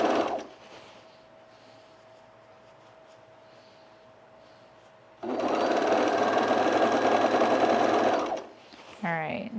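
A sewing machine runs a continuous stitching burst along the side seam of a sunblock top, loud and steady for several seconds after a quieter stretch of low hum, stopping abruptly.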